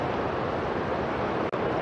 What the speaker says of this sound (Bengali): হুঙ্কার দিচ্ছে, বড় বড় শব্দ করে ঢেউগুলো আসছে।